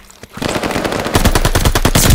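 Rapid automatic gunfire in the video game Call of Duty Vanguard, a loud close burst of rattling shots that starts after a brief pause and keeps going.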